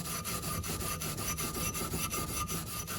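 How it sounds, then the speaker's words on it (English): Rhythmic back-and-forth rasp of sandpaper rubbing an aluminum boat propeller by hand, about five strokes per second, close and steady. "And I'm just going to begin sanding."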